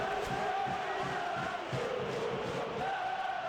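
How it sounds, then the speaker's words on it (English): A stadium crowd in a PES 2013 football match sings and cheers in a steady, dense roar, with a sustained chant-like tone over continuous background noise. "the crowd are in good voice"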